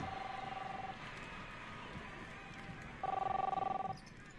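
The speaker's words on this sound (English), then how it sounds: "You don't hear the phone ringing off the hook?" A telephone rings insistently in the Captain Spirit video game, its electronic tone sounding in steady bursts over a dense background bed, moderately loud and close.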